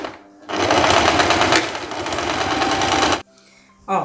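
A sewing machine runs in one fast continuous burst of about three seconds, stitching a blouse lining to the fabric for a wrap blouse. It is loud and close, with a short lull before and after.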